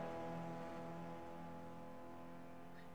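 A race car engine in a racing sim game hums at a steady, low drone that stays fairly even and faint, with little sign of revving.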